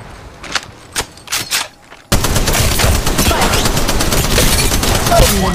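Gunfire from Apex Legends Mobile starts as a few separate sharp shots. It then breaks into loud, sustained automatic fire, close and dense until the end.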